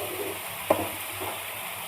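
Spices frying in a pan while pudina (mint) rice is cooked, giving a low, steady sizzle with one brief stirring clatter midway and no talk.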